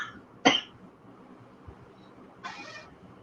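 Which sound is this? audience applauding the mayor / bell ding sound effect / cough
cough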